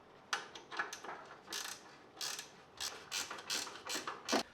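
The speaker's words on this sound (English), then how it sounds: "Just need to tighten it down now." A hand ratchet tightens down a new strut on a Toyota 4Runner, clicking in short, fast bursts of pawl ticks with brief pauses between strokes, fairly quiet and close.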